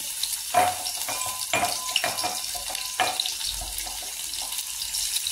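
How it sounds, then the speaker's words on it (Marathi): Oil crackles and pops steadily as cumin and mustard seeds fry, with a few sharper bursts of spattering seeds standing out over a continuous hiss. "जिरे मोहरी चांगले तडतडले आहे"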